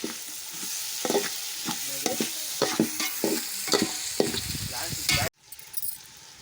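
Chopped tomatoes hit hot oil with frying ginger and garlic for chicken biryani, a loud steady sizzle broken by stirring scrapes, then cut short near the end.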